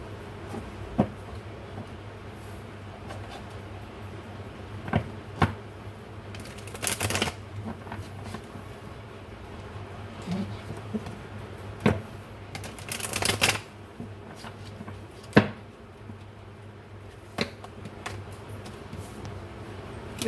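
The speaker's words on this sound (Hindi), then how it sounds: "अब टैरोट से कुछ कार्ड्स निकालते हैं" Tarot cards shuffled and drawn from a deck indoors, giving soft rustling with several sharp riffling bursts and card snaps at intervals over a low steady hum, close and moderately loud, with no talking.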